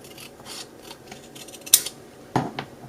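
Scissors snipping fabric for a handmade journal, several short crisp cuts close to the microphone with quiet rustling between them and no talking.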